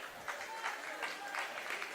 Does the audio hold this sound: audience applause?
yes